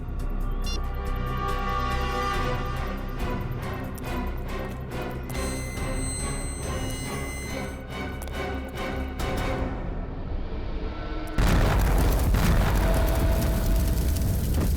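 A blast from a TV crime drama, rendered as a loud, dense burst of noise that rumbles on over a backing music score, then a second sudden, louder swell near the end.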